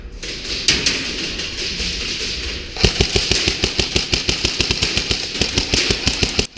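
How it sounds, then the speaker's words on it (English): Airsoft rental gun with a high-capacity magazine firing in full-auto bursts during indoor close-quarters play: after a quieter stretch, a long, rapid, steady string of sharp close shots rattles on for several seconds, with little talk. "Given the capacity of my magazine, I'm able to lay down suppressing fire"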